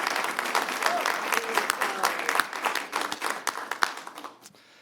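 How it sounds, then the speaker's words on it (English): An audience at a city State of the City event claps for the city council in a steady round of applause that fades out near the end. "So I'd really like for us to recognize them with a round of applause"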